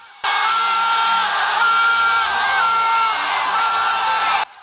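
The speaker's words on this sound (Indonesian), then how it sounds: "teriakan penonton dan atmosfer di Stadion Gelora Bung Karno" A huge stadium crowd at Gelora Bung Karno roars after a goal by Indonesia against Saudi Arabia, a loud sustained wall of cheering and whooping that starts abruptly and holds steady for about four seconds before cutting off.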